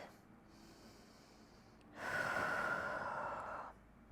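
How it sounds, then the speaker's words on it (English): Slow yoga breathing during a power flow session, with a deep, airy exhale swelling for about two seconds after a quieter stretch, close and soft with no talking. "Let's take 2 breaths."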